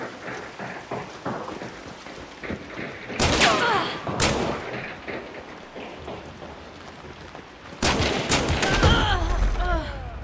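Gunshots trade back and forth in a solo bounty hunt game, loud cracks with echoing tails at intervals over a constant rain-like ambient hiss, two quick shots early and another burst near the end.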